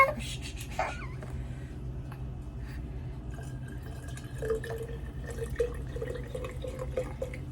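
Beef broth poured into a pot, a soft continuous liquid trickle and splash at moderate distance over a steady low background hum, with faint voices briefly in the background.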